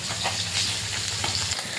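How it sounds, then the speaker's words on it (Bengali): Fish frying in oil in a wok, a close, steady bubbling sizzle with intermittent stirring and crackle, continuous and without talk. "কড়াইটা বসে মাছগুলো ভেজে নেব। এদিকে মাছটা ভাজা হতে থাক"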